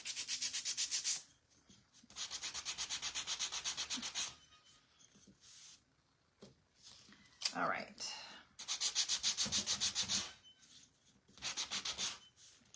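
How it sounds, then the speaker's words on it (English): Rhythmic scratchy sanding strokes on wood come in several bursts separated by pauses, close by, with a brief spoken remark between. "Almost done with the sanding."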